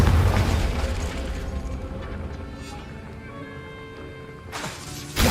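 The Confringo fire spell explodes in the Hogwarts Legacy video game: a loud booming burst that rumbles and fades over several seconds, then a second sharp blast hits at the end.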